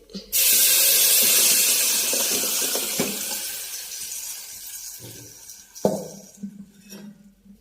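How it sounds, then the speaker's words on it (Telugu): A loud burst of hissing sizzle as tamarind liquid hits a hot oil tempering, fading gradually, followed by a few clinks of a utensil against the pan. "ఇప్పుడు ఈ పోపులో వేసేయాలి"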